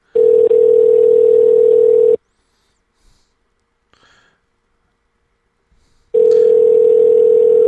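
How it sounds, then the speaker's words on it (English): A steady electronic phone tone sounds loud for about two seconds, then near silence, then the same tone returns; no voices. "You might hear a little bit of a ringtone."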